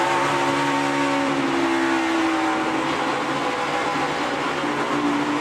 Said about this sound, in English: You can hear him really working the throttle right there.